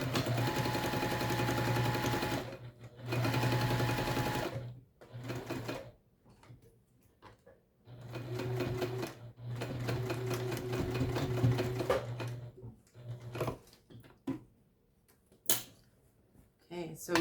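Sewing machine running fast in straight bursts while stitching a fabric tote pocket closed, close and loud, with several runs separated by pauses and brief handling noises.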